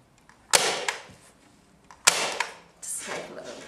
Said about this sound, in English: And with our staple gun,